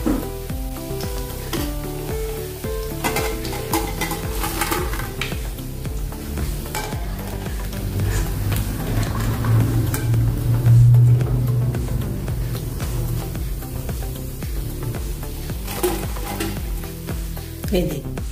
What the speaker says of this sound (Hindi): थोड़ा सा कम गैस पर ही इसको तलिए, अंदर से अच्छे से तलेंगे तभी।